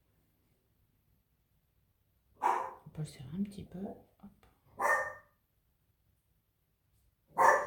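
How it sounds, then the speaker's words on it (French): A dog barks a few times in short bursts, fairly close, during a crochet session, while someone speaks quietly in between the barks. "j'ai mon chien qui aboie"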